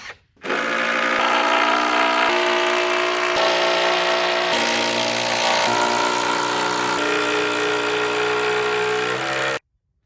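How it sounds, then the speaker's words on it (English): A power drill drives 4-inch screws through the side boards into the wooden deck of a DIY flatbed. The motor whines steadily and loudly for about nine seconds, and its pitch shifts slightly as each screw bites into the wood. "is where I'm going to run screws through the side and into the deck"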